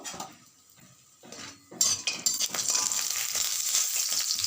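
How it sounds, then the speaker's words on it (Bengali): Lentil dumplings (bori) frying in hot white oil in a wok, a bright sizzle that swells after a quiet start, with metal utensil scrapes and clinks over the crackle. "প্রথমে বড়িগুলো ভেজে রাখবো।"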